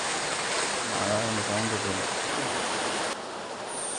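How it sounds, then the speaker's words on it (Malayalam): Heavy rain pours down outside a kitchen at a wedding house where porotta is being made, a dense, continuous roaring hiss with a voice briefly murmuring underneath. "അതാണ് സൗണ്ട് ഒരു പ്രശ്നം ഭയങ്കര മഴയാണ്"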